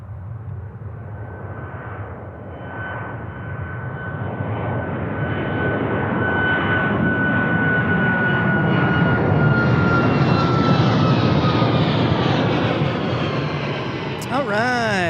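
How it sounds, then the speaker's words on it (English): An Alaska Airlines jet takes off at Ted Stevens Anchorage International Airport, its engine roar building steadily from a distant rumble into a loud sustained whine with a rising tone, while a voice talks over it. "First Alaska Airlines taking off on the L33."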